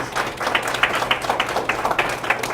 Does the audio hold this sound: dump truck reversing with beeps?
no